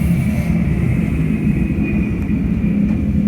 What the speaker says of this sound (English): sit here and watch the planes take off